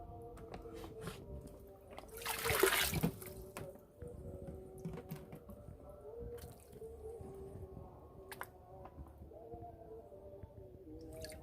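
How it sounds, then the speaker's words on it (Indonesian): Water scooped from a guppy fry tank: soft sloshes and drips, with a louder watery splash near the start, close by, over a steady low hum and with no talking. "Jadi kita ambil airnya."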